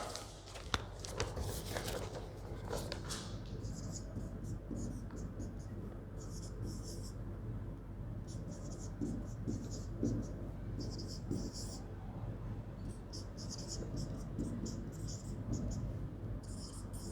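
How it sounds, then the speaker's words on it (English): A maths question being written down by hand in a classroom lesson, repeated soft scratchy strokes of writing, close and faint over a steady low background hum. "I am writing down the question first."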